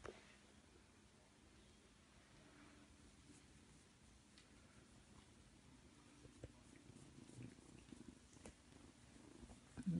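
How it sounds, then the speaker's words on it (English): A cat purrs softly and continuously close by, a low steady rumble sustained throughout, very quiet with a faint background hiss. "So nice when they purr."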